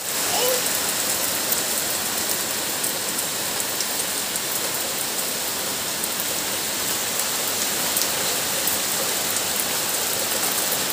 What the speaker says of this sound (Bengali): কি জোরে বৃষ্টি শুরু হয়েছে কি বলবো।